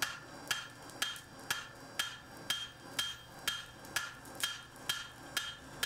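Hand axe or chopper blade hammered on an anvil: a steady series of about thirteen sharp, ringing metal strikes, evenly spaced and close, with no talking.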